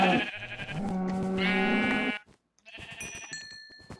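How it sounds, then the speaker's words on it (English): Blocky video-game sheep bleat twice, loud and close: a long wavering baa, a brief gap of silence, then a second shorter bleat with tonal game sounds layered over it. "Ooh, sheep."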